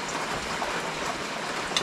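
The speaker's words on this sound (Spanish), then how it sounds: "La lluvia, esa cosa." Steady rain falls in the countryside, a constant soft hiss of drops spread evenly through the moment, with no voices over it.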